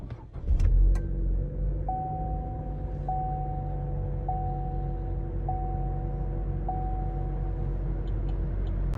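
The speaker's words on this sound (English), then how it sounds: "turn signal went silent and only the chime is playing" Turn-signal chime inside a real modern car with no relay clicking, a series of five evenly spaced electronic tones over a low steady engine hum, preceded by a few sharp clicks and a brief rumble at the start.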